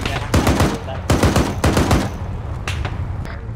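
Automatic gunfire in Arma 3 during a supply-truck escort mission: loud rapid bursts of shots in three close clusters, then a few scattered single shots, with faint voices in the background.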